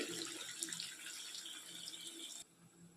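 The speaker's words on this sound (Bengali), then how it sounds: "এরপরে আমি দিয়ে দেব ফুটানো গরম জল।" Boiled hot water poured from a vessel into a pot of lentil pakora curry, a steady splashing gush that carries on for a few seconds and then abruptly stops, fairly quiet, with no talking.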